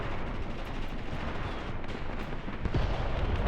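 Heavy on-call artillery pounds in the Graviteam Tactics war game, a continuous low rumble of distant blasts and gunfire that swells into a deeper, louder impact near the end, with no voices.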